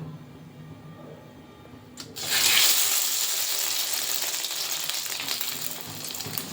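Batter-dipped dough pieces dropped into hot oil, a quiet moment then a sudden loud sizzle that holds steadily and slowly eases.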